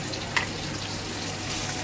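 Two onions go into a hot frying pan while cooking bopis, giving a steady wash of close sizzling with a small clink early on and no voices.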